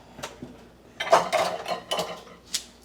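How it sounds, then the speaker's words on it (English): A metal colander is set into a cooking pot, giving a run of clattering metallic clanks and scrapes close by, with a final sharp clink. "I guess I should find a colander that will fit the pot."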